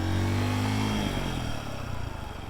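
A motorcycle engine holds a loud, steady drone nearby as it rides a small loop around a church, then wavers and roughens slightly as the rider eases off.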